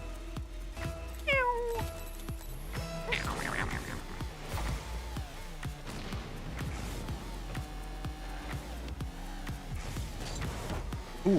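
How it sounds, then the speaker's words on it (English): Two cats meow back and forth across an apartment, with repeated drawn-out calls overlapping a steady background of game sounds and soft clicking, fairly close and clear throughout. "Both of them are yelling at each other from across the apartment. I can hear one going, Meow! And the other one going, Meow!"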